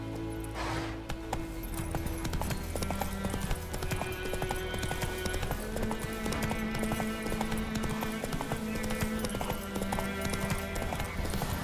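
A horse trotting in the video game Witcher 3, with steady rhythmic hoof clip-clops throughout, layered over game music and ambient sound, with no talk.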